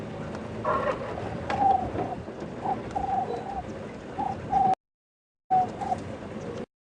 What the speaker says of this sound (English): That was a turtle dove, or a Cape turtle dove